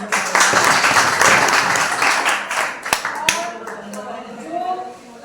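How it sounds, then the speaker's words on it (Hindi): A crowd at a business gathering applauds loudly for a senior colleague. The dense clapping fades into a few scattered claps, and a voice begins speaking as it dies away. "एक बार जोरदार तालियां"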